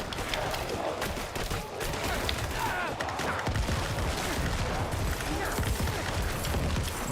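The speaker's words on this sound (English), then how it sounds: "Corpse explosion is insane." Corpse explosion skill in Diablo IV firing repeatedly, a dense, continuous barrage of crackling bursts and booming blasts layered over busy game sound effects, loud throughout.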